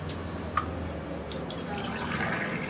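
Half a glass of water pours into a mixer jar holding chutney ingredients before grinding, a soft steady trickle with a faint drip, quiet and close, with no talking.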